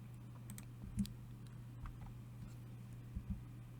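Light, sparse clicks of typing on a computer keyboard, a few soft taps scattered over a faint steady hum in a quiet room.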